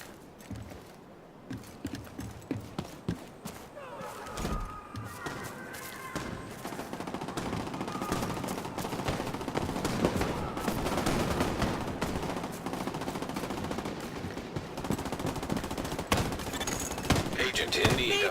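Video game gunfire in The Division 2: rapid bursts and sustained automatic fire crackle throughout, mixed with mechanical clicks and game effects, with voices shouting over the shooting.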